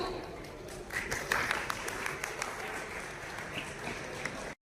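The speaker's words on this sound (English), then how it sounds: "I request all of you give a huge round of applause to them, everyone." Audience at a National Veterinary Day celebration honoring animal care experts claps steadily, a fairly distant, even round of applause with occasional louder individual claps, cutting off abruptly at the end.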